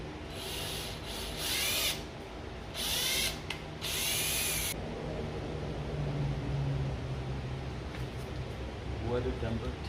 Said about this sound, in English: I drilled a hole on the outside instead of the inside.